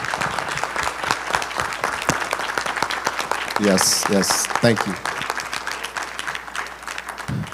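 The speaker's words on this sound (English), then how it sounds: "We want everyone to just give them a round of applause." Sustained audience applause fills a church hall at a fellowship service, dense steady clapping throughout, with a voice speaking briefly over it.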